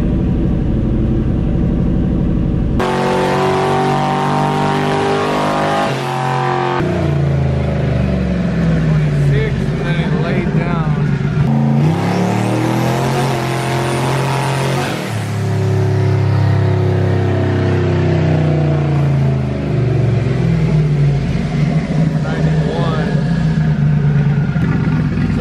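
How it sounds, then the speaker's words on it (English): A boosted budget Hemi Mopar V8 revving hard on a dyno, loud sustained engine roar climbing and falling through the RPM range with boost whine, continuous throughout with voices under it. "See how far this engine can go."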